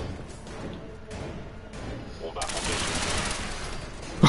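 A powerful weapon fires during Fallout 4 combat in survival mode: a dense burst of rapid shots builds into heavy, continuous gunfire near the end, loud and close.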